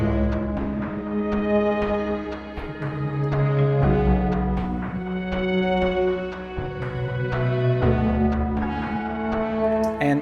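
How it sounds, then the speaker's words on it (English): A granular synthesis track built in Ableton, with strings added in the background: sustained layered tones and chords shift every few seconds, textured by pulsing grains and steady rhythmic ticks, playing continuously without voices. "I've now added some strings to the track,"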